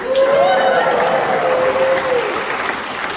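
At a holiday party magic show, an audience gives loud, sustained applause, a thick continuous wash of clapping with a faint whistle-like tone and crowd noise underneath, easing slightly toward the end.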